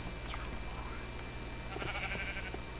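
Sheep in the video game Minecraft bleating a few times at moderate volume over a steady hum, with a faint voice in the background.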